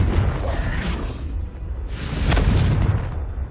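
A Confringo fire spell explodes in Hogwarts Legacy, a loud booming blast with a rushing whoosh, a lull, then a second swelling burst, with no talk.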